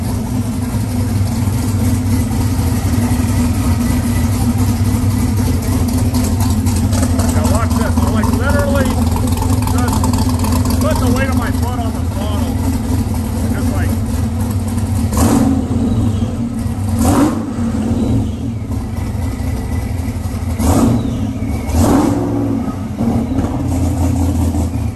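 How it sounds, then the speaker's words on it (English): A Whipple-supercharged 427 cubic-inch LSX V8 in a Vega idles with a deep, steady rumble and supercharger whir, then blips its throttle a few times near the end, while people talk nearby. "Car's idling great."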